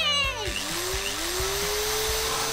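A saw runs during house-frame construction, a steady whining, buzzing tool drone that shifts in pitch as it cuts, loud and close, with someone speaking over it.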